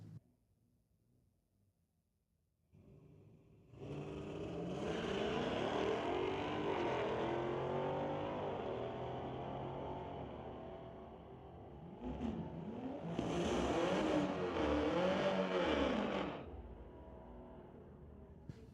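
A 1994 Camaro Z28 and a Mustang at a drag strip, engines roaring loudly at full throttle for several seconds, dropping off, then a second hard surge of revving before fading, with no talk over it.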